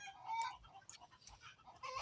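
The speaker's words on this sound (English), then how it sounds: "My chickens are getting ready to go to sleep and they're making too much noise right now." Chickens settling down to roost at night cluck and murmur in short, irregular bursts, several birds close by and fairly loud, with no talking.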